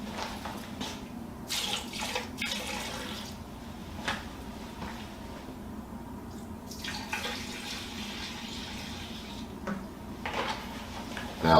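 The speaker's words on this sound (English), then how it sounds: "pouring some of this in the drain" Cleaning product pours into a restroom urinal drain, with several short liquid glugs and splashes over a faint background hum, close and fairly quiet, broken by brief handling noises.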